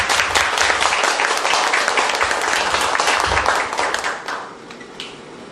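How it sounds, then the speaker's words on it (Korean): An audience at a political debate forum applauds to welcome a speaker to the stage, with loud, dense clapping that fades out toward the end, leaving a few scattered claps. "나오실 때 박수로 환영해 주시기 바랍니다"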